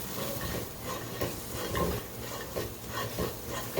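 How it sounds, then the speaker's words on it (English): Red kidney beans in rajma masala curry stirred continuously in a pot, a thick, steady bubbling sizzle under rhythmic scraping spoon strokes near the bottom, close and even throughout. "Keep stirring and stirring. You don't want this to stick at all to the bottom of your pot."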